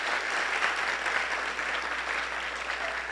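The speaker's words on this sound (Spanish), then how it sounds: "señores, otro aplauso" A large audience applauds at a tribute ceremony honoring poet Jeannette Miller, a continuous, even roar of clapping from a crowd in a hall, sustained without pause throughout.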